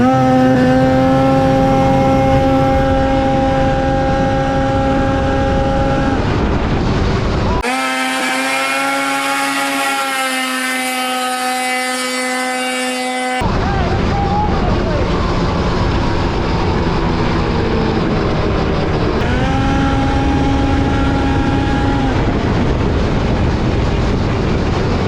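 A 130hp 4x4 buggy roars through a top speed run, its engine loud and close with steady harmonic tones that climb through gear changes, one stretch dropping to a thinner high whine before the full roar returns.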